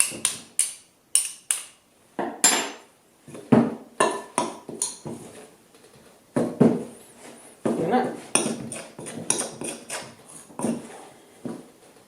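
A spoon mixes bread dough in a bowl, giving a run of irregular clinks, scrapes and soft thuds close by, in bursts with brief pauses, and nobody talks.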